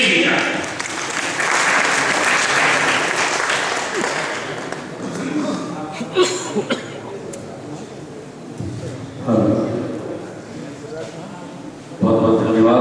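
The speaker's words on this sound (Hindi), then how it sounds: "तो मैं चाहूंगा जोरदार तालियों से स्वागत करें आप सुशील जी का।" At an All India kavi sammelan poetry gathering, an audience applauds in a loud, sustained burst that gradually thins out, followed by scattered clapping and renewed swells near the end, with some voices underneath.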